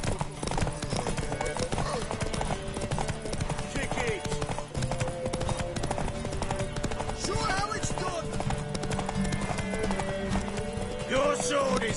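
Continuous clopping hooves with a horse whinnying near the end, amid busy game sounds and voices in The Witcher 3: Wild Hunt.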